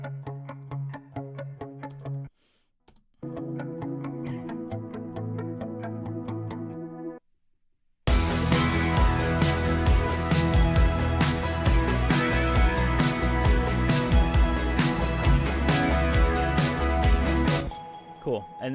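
An electric guitar with a DI guitar layered underneath plays bright strummed parts with a sharper pick attack, starting sparse with a gap, then a fuller, louder stretch of dense playing.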